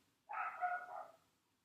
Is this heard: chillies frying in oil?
no